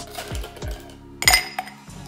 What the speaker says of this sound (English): There's some ice for our glass first.